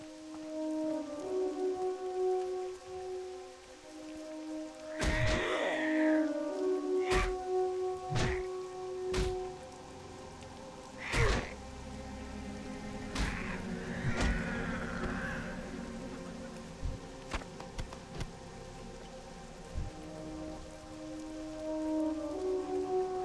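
Rain falls across Mulgore in World of Warcraft as a steady, moderate patter, punctuated by several sharp thuds and clicks from the game over a low background hum.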